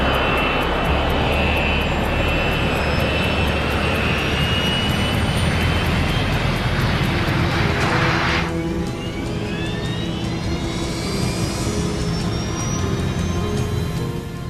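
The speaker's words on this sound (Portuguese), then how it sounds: "O 727 está a segundos de deixar o chão." A Boeing 727 jet roars steadily as it accelerates down the runway for takeoff, loud and continuous, with engine whine rising in pitch partway through; no speech.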